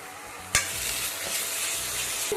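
Spices such as coriander powder and turmeric fry in hot oil in a pan, with a sharp scrape of stirring followed by a continuous bright sizzle, close and loud, with no voices.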